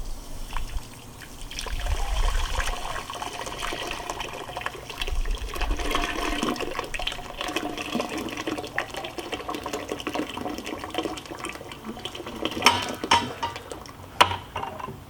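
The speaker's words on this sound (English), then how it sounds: "once you have this kind of nice runny mixture and there's no more clumpinesses, pour it in." A runny refractory mixture is poured into the shell of a small homemade aluminum forge, giving a continuous wet gurgling, slopping flow with scattered splats and knocks near the end.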